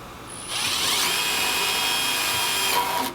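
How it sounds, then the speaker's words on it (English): Milwaukee 12V impact driver in self-tapping mode sinks a screw, a close, loud high-pitched whine that starts fast and steady for about two seconds, then cuts off abruptly. "the self-tapping mode, it starts it out real fast to catch the screw, and then it slows it down to drive it"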